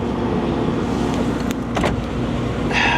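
Power windows on a 2016 Dodge Charger SRT 392, a salvage car, whir briefly through a few short motor runs over the steady hum of the idling engine, close by and without voices.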